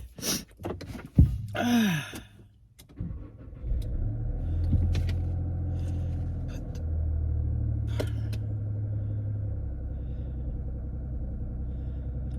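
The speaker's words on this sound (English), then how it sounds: "Okay, I'm in the car. We're leaving." Inside a car pulling away: a few handling clicks and bumps at first, then a low, steady engine and road rumble that holds at a moderate level as the vehicle drives.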